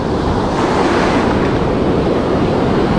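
Ocean waves surging onto a shoreline at high tide during bank fishing for catfish, a steady, loud broadband wash of surf with wind noise buffeting the microphone, continuous and close, with no voices.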